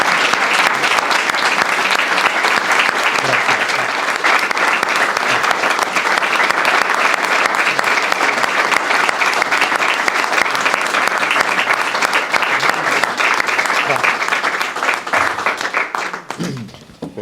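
Widespread audience applause in an academic hall after an induction speech at a Salamanca academy, dense sustained clapping from a large crowd, loud and close, fading out near the end.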